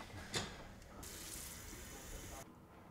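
Faint tap water runs steadily for a second or two with a soft hiss, then cuts off, after a brief clatter at the start; the sound is quiet and close.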